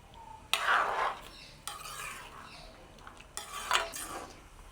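A utensil scrapes and stirs around a metal pot of simmering sambar in three separate bursts, fairly close, with a quiet background hiss between strokes.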